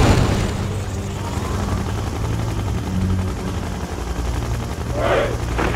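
Rapid gunfire crackles in Mental Omega, the Red Alert 2 mod, steady bursts over a low droning engine rumble, with a few louder booms near the end.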